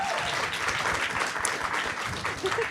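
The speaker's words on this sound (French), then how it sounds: "On l'applaudit!" An evening talk-show audience claps for a guest, producing dense, sustained applause throughout, with no speech over it.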